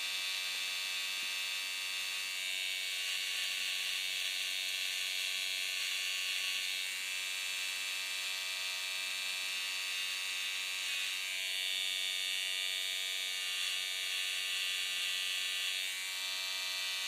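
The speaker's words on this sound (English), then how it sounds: "You kind of backtrack your way up using the corner of them clippers." Electric hair clippers buzz continuously up close with a steady, high-pitched hum while lining up a haircut around the sideburns and hairline, with slight shifts in tone as the blade moves.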